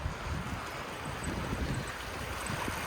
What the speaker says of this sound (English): Here's where the part of this creek forks.